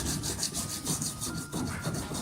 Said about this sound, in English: Sanding and the paper starts to load up.